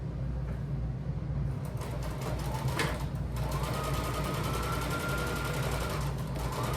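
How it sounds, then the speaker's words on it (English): A sewing machine runs in a steady, rapid rhythm, stitching close to the edge all the way around a fabric tote bag, with a few brief changes in pace. "I'm gonna sew it all the way around"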